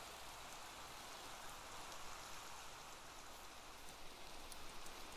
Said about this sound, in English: I gotta get out of this rain.